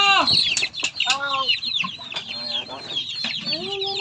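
Chickens and a chick clucking and cheeping close by in a rural province yard, with rapid chirps, short clucks and one longer call, under a background of faint talk.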